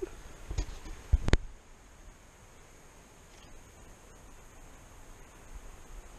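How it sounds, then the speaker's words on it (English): A distant waterfall near Ennerdale Water in the Lake District gives a steady, faint broadband rush, broken near the start by a couple of sharp close knocks before settling into a calm, even hiss. "All you can hear is a waterfall."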